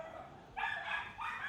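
A dog barks twice in a conference room, short yelping barks about half a second apart, heard at moderate distance and fairly faint, with no talk over them.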